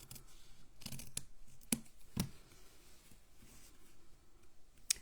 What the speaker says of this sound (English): Let's cut it. I'm just using scissors